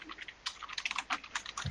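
Rapid typing on a computer keyboard, a close, irregular patter of light clicks in quick bursts with brief pauses, heard alone without voices.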